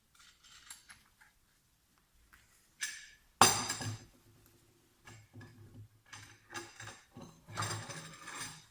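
A plastic or steel nut is tightened onto a disc on a homemade tool for cutting PVC pipe from the inside. Sporadic mechanical clicks and scrapes are heard up close, with one sharp loud clack partway through.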